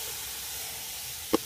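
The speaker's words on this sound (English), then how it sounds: "It's still really hot from the charcoal. So we're getting that nice sizzling sound." Food sizzles on a hot charcoal grill with a steady, close, bright hiss, broken near the end by one short pop.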